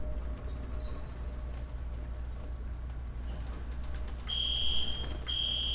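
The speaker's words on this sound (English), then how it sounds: "That's a fire alarm" A fire alarm sounds in a room, a loud piercing high tone starting late and repeating after a brief break, over a steady background hum.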